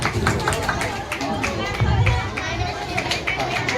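An audience at a high school drawing competition claps together, producing a dense patter of hand claps mixed with crowd chatter and voices throughout.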